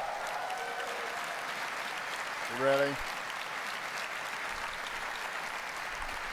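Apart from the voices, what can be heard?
audience applause at Apple event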